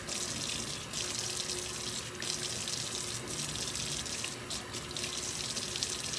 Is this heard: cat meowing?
no